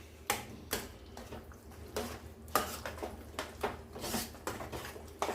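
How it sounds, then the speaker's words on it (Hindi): Cooked mustard greens being mashed in a pot for sarson ka saag, with repeated sharp knocks and scrapes of the masher against the pot at an uneven rhythm, close by, with no talk. "इसको एक बार आप पूरे को मैश कर दीजिए।"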